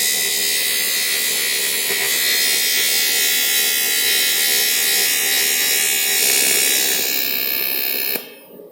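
TIG welding on a thin-walled aluminum kart crankcase under repair. It makes a loud, steady, close electric buzz and hiss that holds evenly for several seconds, then cuts off sharply near the end.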